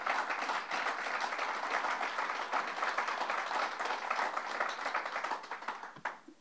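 An audience at a governor's bill-signing ceremony applauds in a dense, steady wash of clapping that holds for several seconds at moderate distance, then tapers off near the end.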